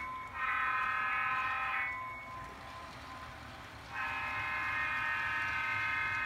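A model railway train on a layout modelled on a Portland, Maine to Boston run sounds two long, steady horn blasts separated by a short pause, fairly quiet over a low background hum.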